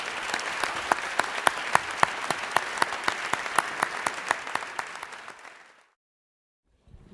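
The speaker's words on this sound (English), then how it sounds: "let's give them a round of applause" An audience at a university alumni awards evening gives steady, full applause with dense clapping for about five seconds, then it dies out abruptly into silence.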